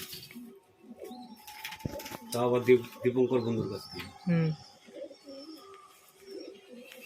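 High-flyer pigeons at a home loft in Murshidabad coo in short, soft bursts close by, while someone talks over and between the calls.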